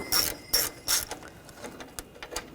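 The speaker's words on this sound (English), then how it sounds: "Using a 8mm socket, we're going to take these bolts out." A ratchet with an 8mm socket loosens intake bolts on a 2002-2006 Honda CR-V 2.4L engine. Three sharp, close clicking bursts are followed by a run of lighter, quicker ratchet clicks.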